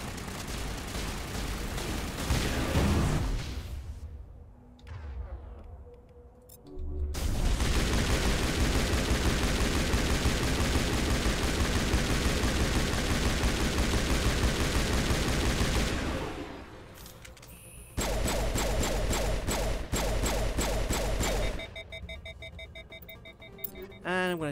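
Sustained automatic gunfire in Mass Effect Legendary Edition, long loud continuous bursts with a couple of short pauses, then rapid rattling shots continuing near the end.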